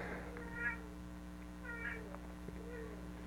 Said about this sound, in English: She just likes to meow at stuff.